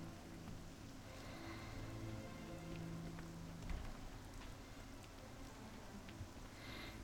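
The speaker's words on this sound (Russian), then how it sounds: "Дождь идет." Steady rain in the World of Warcraft video game, a soft, even hiss of falling drops that stays faint and constant throughout, with low ambient tones underneath and no voices.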